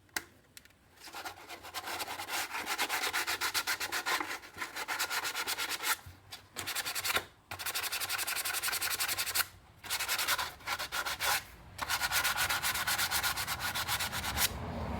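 Sandpaper rubbed hard across the skirt of a Mcquarrie Boba Fett Star Wars helmet build, a loud, steady, close scratching with rapid back-and-forth strokes broken by a few short pauses.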